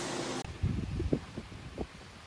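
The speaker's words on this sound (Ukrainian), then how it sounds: "Тут дуже вітряно." A brief blast of rushing wind noise cuts off abruptly, leaving low rumbling gusts and buffeting against the microphone.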